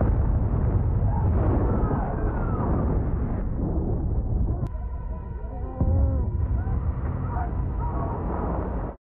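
Bomb explosions from the war film Dunkirk, a loud continuous roaring rumble with booming bursts that fill most of the stretch, easing briefly before a fresh blast swells back and then cuts off abruptly.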